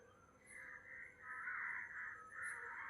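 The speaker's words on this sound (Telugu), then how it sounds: "అది కాకులు కూడా లేచిపోతున్నాయి." Crows cawing in a calm village morning setting, a run of harsh, drawn-out caws overlapping one another, moderately near and fairly loud above a soft background hush.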